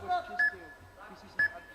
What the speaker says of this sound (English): You can hear the timer in the background.